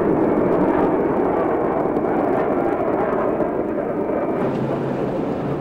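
A North American B-45 Tornado jet bomber of the late-1940s United States Air Force roars in a loud, continuous, broadband engine rumble that holds steady without a break.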